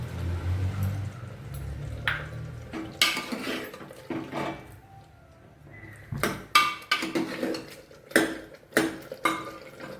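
Boiled potatoes are mashed in a metal pot for stew, giving irregular close clanks and scrapes of a utensil against the pot with soft squishy thuds between.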